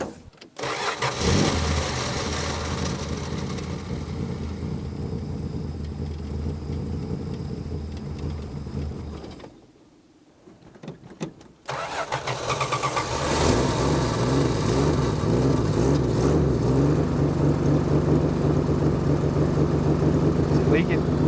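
A Plymouth Barracuda, abandoned for decades, has its engine started after a carburetor refit and settles into a loud rough idle. The idle cuts out briefly partway through, then restarts and runs on, with people talking nearby.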